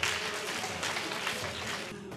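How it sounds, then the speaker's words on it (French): Audience applause for a child who has just recited Surah Al-Ikhlas at a Quran recitation event, a steady dense patter of clapping across the whole moment that thins out at the end. "On va l'accompagner avec des applaudissements."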